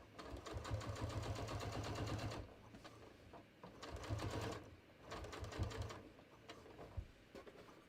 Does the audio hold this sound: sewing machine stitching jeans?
yes